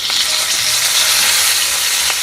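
Curry leaves, mustard seeds and asafoetida sizzle in hot oil for a sambar tempering, a loud, close, continuous crackling hiss with occasional sharper pops, with no talk over it.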